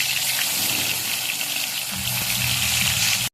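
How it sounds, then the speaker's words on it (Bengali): Pieces of fish dropped into hot oil for a Bengali mustard fish dish, giving a dense, loud, rushing sizzle that holds steady and swells slightly near the end, with faint background music beneath and no voices. "এবার আমি তেলের মধ্যে নিয়ে ছেড়ে দিচ্ছি"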